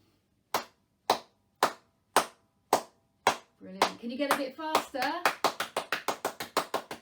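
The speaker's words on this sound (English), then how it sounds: "Can you clap your hands together?" Children's early-years music session: single hand claps spaced about half a second apart, then a brief stretch of spoken encouragement, followed by a quicker run of claps close to the listener.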